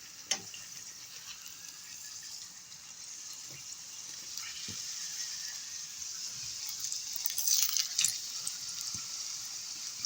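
Chebureki fry in a pan of hot sunflower oil, giving a steady, moderately loud sizzle and bubbling hiss that swells slightly toward the end, with no voices.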